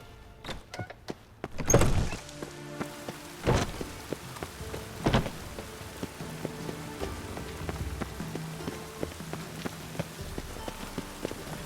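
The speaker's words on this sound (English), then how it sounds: "The rain will ruin it." Steady rain patters on a surface in The Witcher 3: Wild Hunt, with a few louder thumps near the start and scattered drips throughout, fairly quiet overall.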